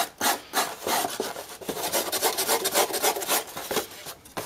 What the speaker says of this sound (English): sandpaper, emery paper and this is not too bad this one it smooths it off